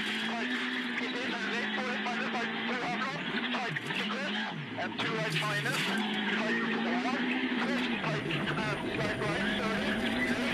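A WRC rally car on the Wolf Power Stage at Rally Italia Sardegna 2020, its engine revving hard and rising and falling through gear changes and corners, loud and close, with commentary over it.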